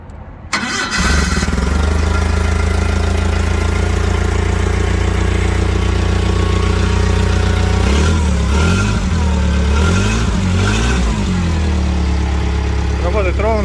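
A three-ton forklift engine cranks, catches, then settles into a loud, steady idle close by, with voices talking over the running engine.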